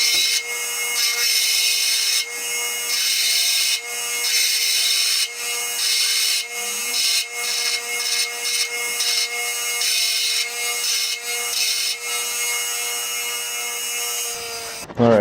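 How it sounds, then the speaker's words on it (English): Harsh, high metallic grinding on a bolt head to widen its chamfer for a weld on a Hayabusa sand rail build, running in steady bursts with short pauses and a shift in tone near the end. "I'm going to grind off some of this head, increase this chamfer a little bit to give me a place for the weld to go."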